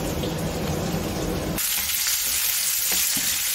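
Onions and bhut jolokia chilli fry in a little oil, giving a loud, dense sizzle that shifts sharply partway through as the pan is stirred, with no voices.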